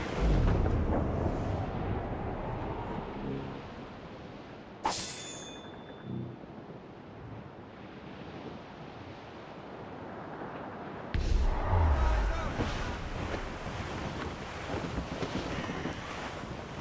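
A stormy sea roars in the Assassin's Creed Rogue video game, with steady heavy wind and crashing waves. Sailing-ship creaks sound throughout, and a loud gust surges near the end.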